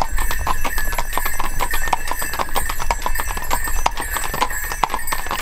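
A horse pulls a carriage near Visoko, its hooves clip-clopping in a steady rapid rhythm on a hard surface, loud and close, with light jingling and no talk.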